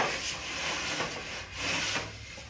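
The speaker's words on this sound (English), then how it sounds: "you're just going to simply pull these slats out till you have them nice and flat" Wooden slats of a child's ladder bed being pulled out flat, a soft close rubbing and scraping of wood on wood in a few strokes, quiet and without talk.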